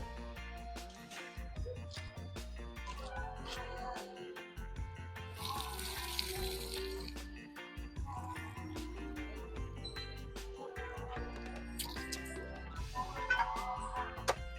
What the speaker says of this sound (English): Look at pot a bubble